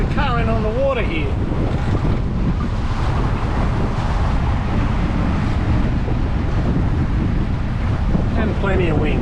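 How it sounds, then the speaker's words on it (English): Strong wind roars over the water while sailing the Australian east coast near Brampton, buffeting the microphone with constant heavy rumble and wave wash. A voice speaks briefly at the start and end. "And plenty of wind."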